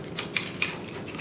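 A knife or cutter slicing through a freshly baked homemade pizza makes crisp, scratchy crunches, about four quick strokes, close and fairly quiet.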